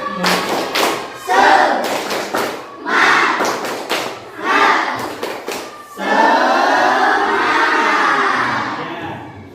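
A class claps out a rhythmic 'tepuk semangat' cheer, several bursts of patterned group clapping with chanting voices, then a sustained stretch of excited crowd cheering and shouting, loud and close.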